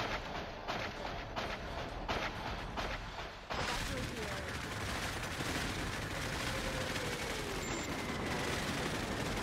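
Airstrike in the Cepheus Protocol video game: a rapid burst of sharp explosive cracks gives way to a dense, continuous rumble of blasts and debris that keeps roaring steadily.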